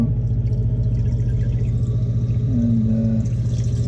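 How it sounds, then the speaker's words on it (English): A sump pump drains water from a French drain sump out toward the street, giving a loud, steady low motor hum with rushing water over it and a brief higher whine partway through. "Float switch should trigger and it'll pump it out to the street."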